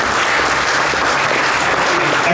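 Audience applause, dense and continuous at steady loudness throughout, a large crowd clapping with no break.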